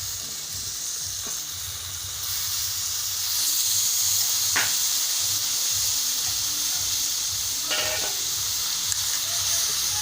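Chopped ginger, boiled cabbage and potato tipped into a hot pan for a Bengali cabbage and potato curry, giving a steady loud sizzle and hiss that swells after a couple of seconds, with brief stirring scrapes.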